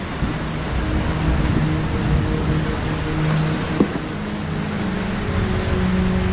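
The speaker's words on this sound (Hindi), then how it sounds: "पिछले 7 दिनों से जंगल में बहुत तेज बारिश हो रही है।" Heavy rain pours over a forest in a Hindi cartoon, a steady dense wash of hiss with low rumbling and a faint tonal hum underneath, continuous and unbroken.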